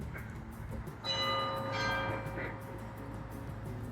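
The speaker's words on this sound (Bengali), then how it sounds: "প্রত্যেক পনেরো মিনিট অন্তর অন্তর ঘন্টাটা বাজে" An 1897 clock tower in Camperdown sounds its bell outdoors over steady street or wind noise, giving one or two ringing strikes whose bright, sustained tones hang and slowly fade, moderately distant.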